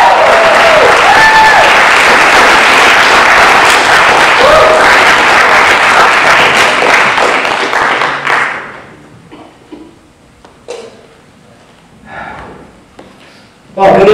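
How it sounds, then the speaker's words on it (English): An evening audience gives loud, dense applause for the honoree Mr. Carter, sustained for about eight seconds before tapering off into scattered claps and quiet room noise. "let's give a big round of applause for Mr."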